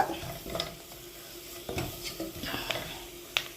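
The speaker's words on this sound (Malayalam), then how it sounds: "മല്ലി, മഞ്ഞൾ ഇതൊക്കെ ഇതിലിട്ട് കൊടുക്കുക. ഇതൊന്ന് ഇളക്കി കൊടുക്കുക." Coriander and turmeric frying in a pan as they are stirred, with a continuous close sizzle broken by scraping strokes and occasional light metallic clinks of the utensil against the pan.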